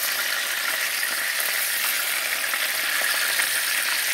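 Tilapia fish frying in a non-stick pan gives off a steady, even sizzle that stays constant throughout, with faint crackles and no voices.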